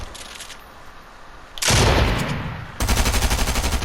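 Rapid SMG fire in the Raiders solo aim trainer video game, a sustained loud burst of closely spaced shots near the end, after a dense roaring blast midway.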